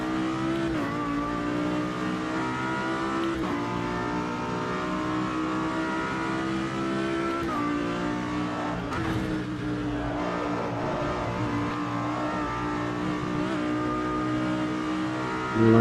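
A race car engine in the Automobilista 2 sim screams at high revs without a break, rising and dropping with gear changes and corners, while other cars' engines around it fill in the background; no one talks.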